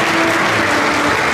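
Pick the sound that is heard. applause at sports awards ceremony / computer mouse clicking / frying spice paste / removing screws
applause at sports awards ceremony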